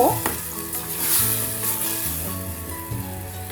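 Tomato and spice masala frying for Bengali aloo dum in a pan, giving a loud continuous sizzle with low bubbling and occasional stirring scrapes, close up.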